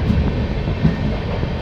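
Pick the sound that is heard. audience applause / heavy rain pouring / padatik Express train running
padatik Express train running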